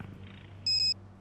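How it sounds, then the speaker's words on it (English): A short synthetic cat purr from a video game sounds once, a brief bright buzzy burst lasting about a quarter second over a low steady hum. "Alright, I'm gonna go purr."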